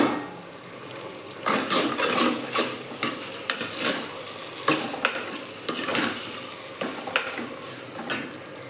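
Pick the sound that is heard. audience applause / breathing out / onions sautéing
onions sautéing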